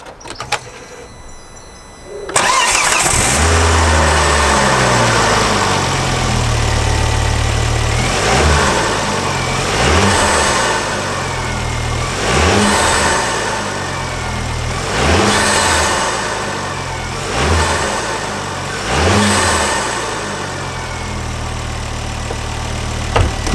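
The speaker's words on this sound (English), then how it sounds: "let me start the car up, it is cold and we'll give it some revs." A cold car engine fitted with a Group A RamAir induction kit cranks briefly, then catches and settles into a close, loud idle. Several sharp revs rise and fall at roughly regular intervals.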